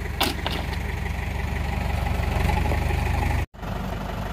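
A tractor engine idles steadily at close range on a scrap-pickup and house-repair job, a continuous low rumble with a brief cut-out near the end before it carries on.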